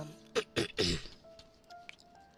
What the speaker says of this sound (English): excuse me as I'm clearing my throat in my microphone